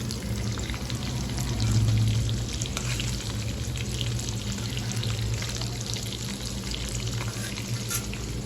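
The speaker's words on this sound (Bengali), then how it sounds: "এইভাবে মাছগুলো আস্তে আস্তে ভেজে নিই।" Large fish pieces fry slowly in a pan of hot oil, giving a steady, close, dense crackling sizzle that holds for the whole stretch with only slight swells, no voices over it.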